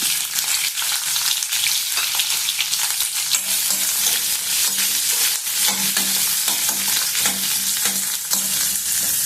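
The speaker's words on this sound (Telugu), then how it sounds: "ఉల్లిపాయలు కొంచెం కలర్ వచ్చేంత వరకు మగ్గనిద్దాము" Chopped onions and green chillies fry in a pan with curry leaves, a dense continuous sizzle under constant stirring and scraping, loud and close with no talking.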